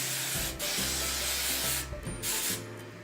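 Close hissing bursts of Rusk Weightless Plus hairspray in several sustained pulses with brief gaps between them, loud and airy, with nobody speaking.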